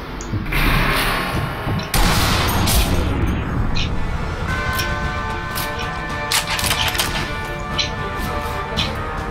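Pistol fire and impacts in the sniper shooter game Sniper Elite V2, a steady dense wash of game combat with sharp cracks and bangs scattered throughout, loud and continuous.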